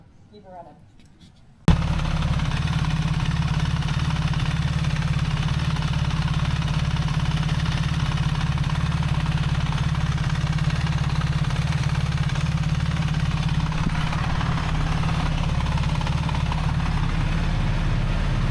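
BMW boxer motorcycle engine with a JB Weld–patched cylinder head starts up after a brief quiet moment, then runs steadily close by with a low, even rumbling drone throughout.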